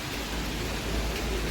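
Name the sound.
light rain falling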